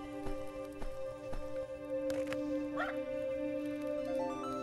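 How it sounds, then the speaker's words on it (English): A puppy yips and barks in a video game, a few sharp short barks over steady sustained game music and tones, fairly faint. "It's a puppy over here."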